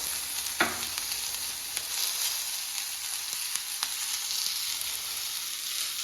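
Chopped tomatoes sauté in a pan for a chapati gravy, giving a steady, close, bright sizzle with a few soft spatula scrapes and taps along the way.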